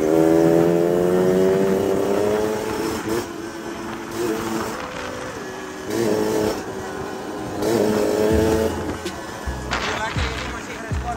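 An RC100 motorcycle fitted with a 34 mm carburetor revs while riding, engine pitch climbing and dropping in repeated surges with wind noise, loud and close throughout.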